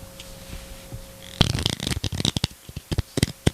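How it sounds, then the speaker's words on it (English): Playing cards are shuffled close by, bursts of crisp riffling and flapping that follow a quiet stretch of faint hum. "I'm gonna put the mic down so I can shuffle the cards"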